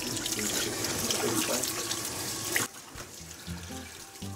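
Tap water runs steadily into a sink while animal guts are rinsed, a broad rushing splash that cuts off abruptly partway through, leaving faint drips and small knocks.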